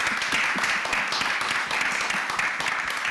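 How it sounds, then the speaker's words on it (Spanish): Audience applause for a group of speakers at a Spanish talk event, a steady mid-level patter of many hands clapping continuously without a break, slightly roomy. "quiero que les deis un fuerte aplauso a todos ellos"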